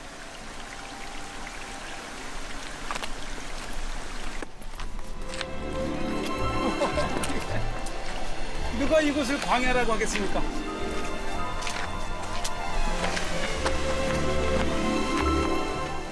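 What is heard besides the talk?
waterfall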